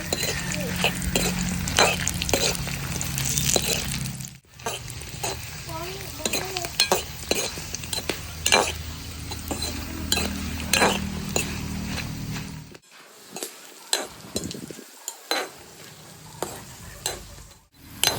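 Onion and chillies frying in a pan for a Jaffna-style pirandai sambal, a close crackling sizzle broken by repeated sharp scrapes and clinks of a spatula, then a brief quieter stretch near the end.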